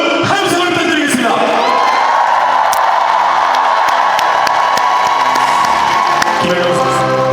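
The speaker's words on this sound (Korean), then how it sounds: "여러분, 함성을 부탁드리겠습니다." A large arena crowd at Kim Yeon-koung's volleyball farewell event cheers loudly and continuously, a sustained roar of voices with scattered whoops and claps, close and dense throughout.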